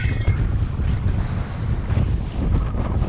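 Strong 22-knot wind buffets a sailboat at anchor in 3-foot seas, a loud continuous roar of gusts and microphone wind noise over sloshing waves slapping the hull, steady throughout with no talking.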